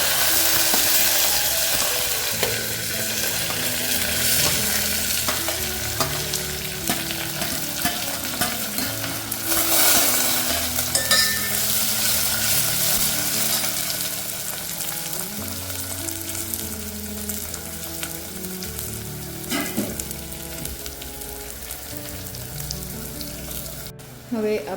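Green chillies and curry leaves sizzling in hot oil with lightly golden garlic for Rajasthani kadhi, a loud continuous crackle with frequent stirring scrapes and brief faint speech.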